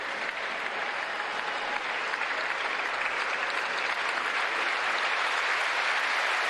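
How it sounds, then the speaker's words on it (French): Steady, sustained applause from a large crowd after a first-round Wimbledon tennis match, even and unbroken from start to finish. "Les applaudissements du tour numéro 1"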